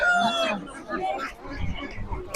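A rooster crows at a busy poultry market, the call fairly close and brief amid crowd murmur, with other fowl clucking faintly in the background.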